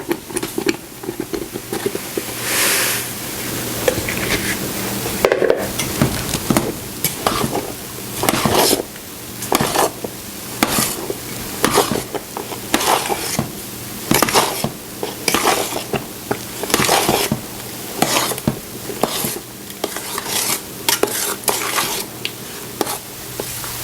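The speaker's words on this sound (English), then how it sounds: "it's come to a full rolling boil now, and so it has to boil for 1 minute" Kumquat marmalade with sugar at a full rolling boil in a pot, stirred steadily with a spoon scraping and knocking against the sides in a repeating rhythm over a constant bubbling hiss, close and fairly loud.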